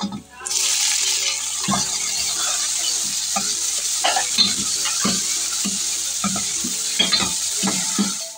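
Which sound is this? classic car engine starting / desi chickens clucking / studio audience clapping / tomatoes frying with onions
tomatoes frying with onions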